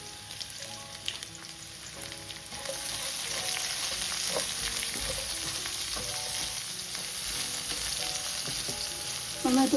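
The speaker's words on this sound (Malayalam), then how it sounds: "ഇനി അരിഞ്ഞ് വെച്ച ഒരു സവാള ചേർത്ത് കൊടുക്കുകയാണ്." Chopped onion sizzles loudly as it fries in a pan for a spicy Kerala beef and tapioca dish, a steady crackling hiss that swells after a few seconds, with occasional utensil clinks and no talking.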